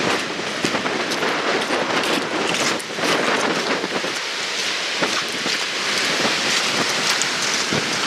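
Gale-force southeast wind of twenty-plus knots roars across a beach at night, a loud, unbroken broadband rush with gusting surges and scattered crackling buffets, no voices.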